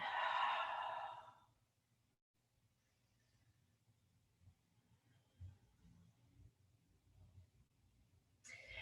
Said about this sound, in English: That ujjayi breathing.